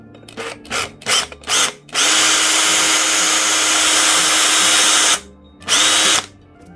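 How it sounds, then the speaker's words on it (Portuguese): An electric drill bores a hole for a homemade camp stove: several short revving bursts, then a long sustained loud whir of about three seconds, a pause, and one more brief burst close by. "eu vou fazer só um furo aqui. Então, primeiro furo, o mais reto possível."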